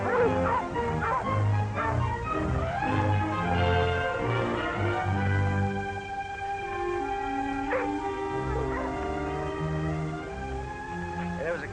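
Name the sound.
dogs barking and whimpering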